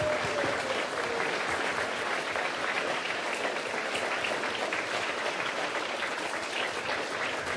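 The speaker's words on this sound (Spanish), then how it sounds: "El aplauso para los niños y las niñas participantes de esta ceremonia cívica." Applause rises for the children taking part in a primary school civic ceremony, a steady, even wash of many hands clapping that holds without a break and has no voices over it.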